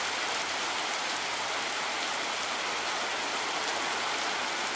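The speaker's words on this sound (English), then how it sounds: "It's raining." Steady, heavy rain pours down in a dense, even hiss with no talking.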